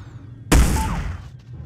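A single loud sniper rifle shot in the video game Hitman Blood Money cracks sharply and close, followed by a booming tail that fades over about a second.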